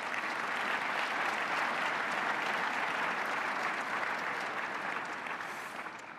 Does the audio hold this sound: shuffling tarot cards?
no